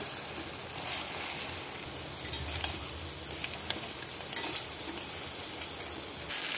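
Poppy seed and green chilli paste stirred into potatoes and drumstick stems frying in a pan, giving a low continuous sizzle with scattered light utensil scrapes and clicks, no voices.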